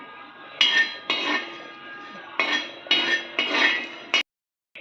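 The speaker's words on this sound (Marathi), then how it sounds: "आता जे मी खडे मसाले घेतले होते ते मी सगळे आता व्यवस्थित भाजून घेत आहे" Whole spices dry-roasting in a pan for dhaba-style shev bhaji, stirred with a metal utensil that gives repeated scraping clinks in about six short bursts, fairly close, with no talk.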